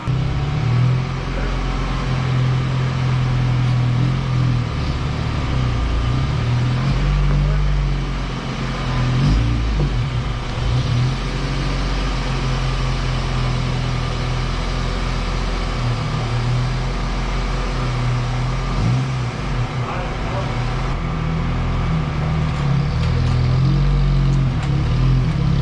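A 1987 Toyota 4Runner idles and moves while backing out of a garage, a loud, close, steady engine rumble with mild rises in revs and no talking.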